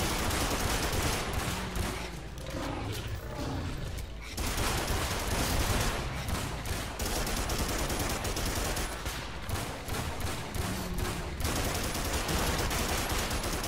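Sustained rapid gunfire aimed at a dinosaur in the shooter Primal Carnage, dense, loud bursts of shots rattling almost continuously with brief gaps, and no voices.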